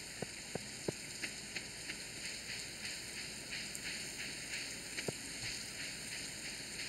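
Rain falls in the farming video game Stardew Valley, a soft, steady hiss with a few sharp ticks and drips near the start, faint beneath a constant tonal hum.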